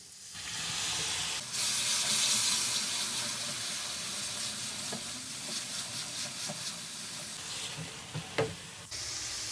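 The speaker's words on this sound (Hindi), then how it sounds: "2 से 3 मिनट हम मसाले को भून लेंगे।" Spices frying in a pan with a little water for chicken handi, a steady loud sizzle with scraping stir strokes throughout and a few sharper clinks near the end, no voices.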